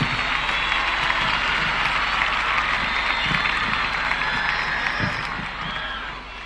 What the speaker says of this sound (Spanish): un aplauso lo más fuerte posible a estos músicos